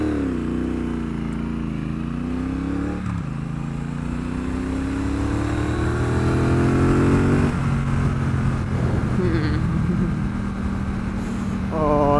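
A Triumph Bobber 1200 motorcycle riding through city streets, its engine droning and rising in pitch through gear changes, with passing traffic noise around it; the rider's voice is faintly present.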